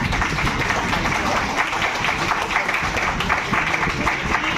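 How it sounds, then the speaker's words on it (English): Students at Swami Shraddhanand College applaud the Animalia group, a loud, busy wash of many hands clapping that holds steady throughout. "a big round of applause to all of the Animalia group"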